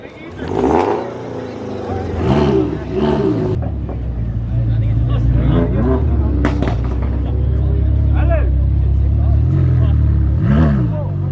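Exotic cars rolling past at a big street car meet in Los Angeles, engines rumbling and revving loudly as they pass close by, with crowd chatter and talk over the steady low roar.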